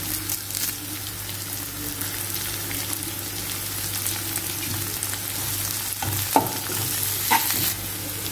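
Curry leaves sizzle in hot oil for wheat rava upma, a steady frying crackle with stirring running through the whole clip and a couple of sharper pops near the end, with no talking.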